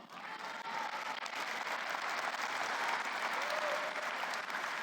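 A church congregation applauds, a steady wash of clapping from many hands that holds at an even level throughout, fairly distant and without speech.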